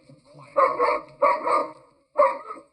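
A dog barks near a house in a quiet neighborhood, three loud close barks in quick succession with short gaps, the last after a brief pause.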